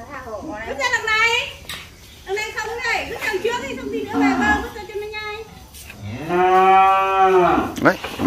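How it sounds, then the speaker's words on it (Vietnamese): A cow mooing at a rural cattle sale, with several long, loud, close lows interleaved with people chatting and a voice. "Con bò này 2 triệu."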